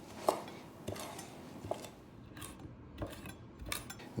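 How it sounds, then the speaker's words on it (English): Rosemary needles being cut with a knife on a board, a handful of soft, sparse chopping taps and scrapes at close range, quiet, with no talking. "I need to cut enough rosemary needles to equal"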